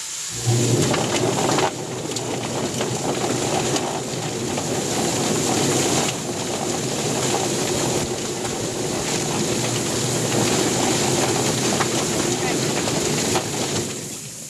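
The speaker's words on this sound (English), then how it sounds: "We're going to get some water going and just turn the plucker on." A chicken plucker churns and rumbles continuously with splashing, rushing water throughout, loud and close, with faint voices underneath.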